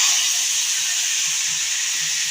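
Tomatoes sautéing in hot oil for a methi egg curry give a steady, loud, close sizzling hiss that stays even and unbroken throughout, with no voices.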